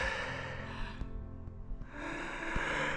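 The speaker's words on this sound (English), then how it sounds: "More heavy breathing, I'm afraid." Heavy, labored breathing close by from a person hiking uphill in Todra Gorge, deep snorting inhales and exhales with a brief quieter pause in the middle.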